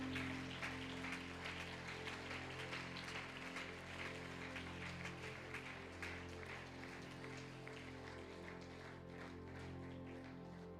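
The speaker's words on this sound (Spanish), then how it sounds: "Dele ese aplauso a Él, por favor." Church congregation applause during a Spanish-language worship service, a steady wash of many hands clapping, faint and distant, over a sustained organ-like musical drone.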